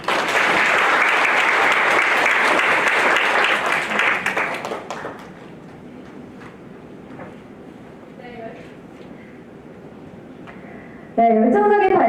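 Conference audience applauding after a blockchain startup presentation, loud sustained clapping for about five seconds that fades into a quiet hall before a voice speaks.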